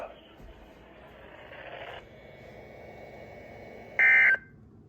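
An Emergency Alert System weekly warning alarm test tone plays as a steady electronic tone, ending in a brief, loud, higher burst near the end over faint background hiss.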